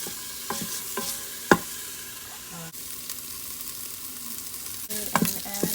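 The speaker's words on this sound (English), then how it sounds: "I'm gonna saute this for a little bit." Onions and garlic sauté in a hot pot with oil popping, a low sizzle under several sharp clacks and scrapes of a spoon stirring against the pot.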